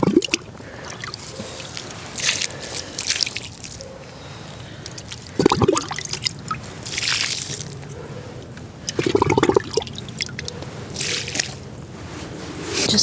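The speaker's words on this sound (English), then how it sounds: "Now we're going to add the water." Water poured from a container onto garden soil over freshly sown carrot seeds, irregular splashing and gurgling bursts in several pours with soft squishing between, close and moderately loud, no talk.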